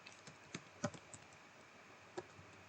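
Typing on a computer keyboard, heard as a short run of sparse, close key clicks at an uneven pace, fairly quiet, with no talking.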